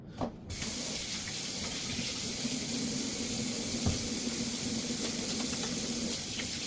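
A tap runs steadily while seasoned hands are washed beneath it, giving a continuous close splashing hiss of water into a sink that lasts the whole stretch.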